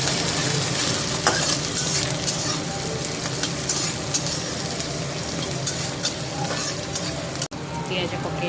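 Onions frying in a pan in a home kitchen while a breakfast curry is made, giving a steady close sizzle with scattered scrapes and clicks from stirring throughout.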